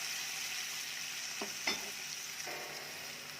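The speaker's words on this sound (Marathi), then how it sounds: "कांदा भाजला की यामध्ये टाकूया टोमॅटो" Onions with tomatoes frying in a pan, a soft, steady sizzle with a few scraping stirs of a spoon, close and fairly quiet.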